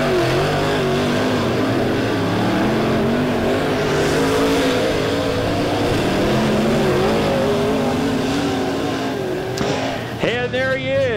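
Heat race cars at Lebanon Midway speedway on the final lap, a loud, continuous engine roar with pitch rising and falling as they circle, under an announcer's commentary.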